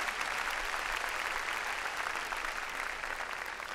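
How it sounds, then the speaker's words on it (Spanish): A church congregation at a Spanish-language worship service applauds the Lord, steady dense clapping that stays even and fairly loud throughout, with a faint murmur of voices beneath. "denle un aplauso al Señor"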